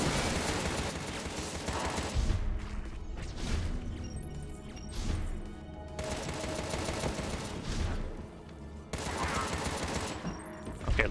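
Sniper and other gunfire in the Contra: Rogue Corps video game, with dense bursts of shots and crashing impacts over a busy, loud game soundtrack throughout.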